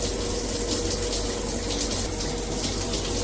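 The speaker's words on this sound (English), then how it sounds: "This is the regular shower head mode." A MakeFit filtered handheld shower head in regular spray mode sends out a steady, dense hiss of water, constant and close with no pauses.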